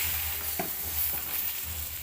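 Hot oil left from frying potato and eggplant, with panch phoron tossed in, gives a steady close hiss over a low hum. A couple of faint stirring scrapes sit within it before it cuts off abruptly, with no speech.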